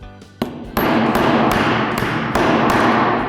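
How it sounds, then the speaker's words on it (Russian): A hammer cracks pieces off a sharpening stone with a handful of sharp, loud knocks at an uneven pace, ringing over a steady hissing background. "Достаем камень и при помощи молотка отломим от него кусок."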